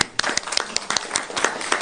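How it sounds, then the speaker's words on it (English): Council meeting attendees clap briefly, a short scatter of individual hand claps from a small group in a room, fairly soft and irregular. "It does deserve a clap."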